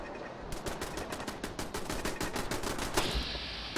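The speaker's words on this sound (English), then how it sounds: "Got shooting, shooting, shooting." Rapid automatic gunfire in the video game Fallout 4, a dense stream of loud repeated shots for several seconds with a sharper burst near the end, close and unbroken.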